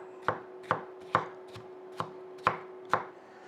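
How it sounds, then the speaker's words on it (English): An ulu knife chops through an onion on a board in seven steady, evenly spaced knocks, close and clear, with a faint steady hum beneath and no talking. "I'm going to go ahead and chop up my onion."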